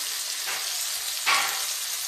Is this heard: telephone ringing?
no